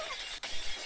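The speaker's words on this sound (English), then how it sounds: "The unpleasant, piercing sound of shattered glass." A sharp glass shatter effect from the game Higurashi bursts out with a bright crash and a brief scatter of tinkling debris, loud and alone.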